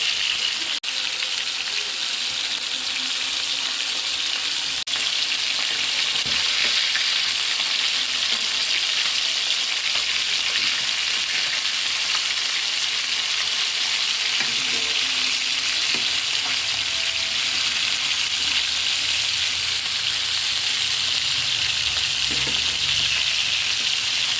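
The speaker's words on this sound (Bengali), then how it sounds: "এই যে আমার মাছটা ভাজা হয়ে গেছে" Fish frying in oil in a pan, a loud, continuous hissing sizzle held evenly from start to end, with occasional faint knocks and no talk.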